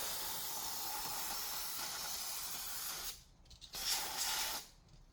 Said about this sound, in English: I'm using brake cleaner, not too close. Just take a little bit. And we're just gonna spray it on there.